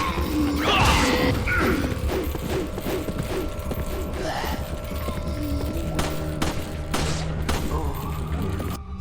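Repeated gunfire and crashing impacts from Resident Evil 4 (2005 original) combat against enemies, loud and dense, with a voice speaking over the shooting.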